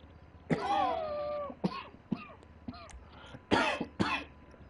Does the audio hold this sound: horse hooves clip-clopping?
no